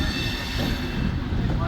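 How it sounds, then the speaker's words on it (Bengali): Express train pulling out of Kharagpur station on an LHB rake of the 18029 Kurla Express, a steady dense rumble of wheels and carriage noise throughout, heard from on board. "আমাদের ট্রেন ছাড়লো খড়গপুর থেকে"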